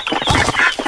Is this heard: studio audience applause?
no